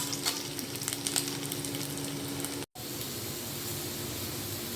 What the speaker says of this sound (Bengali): আলুগুলোকে একটু ভেজে নিচ্ছি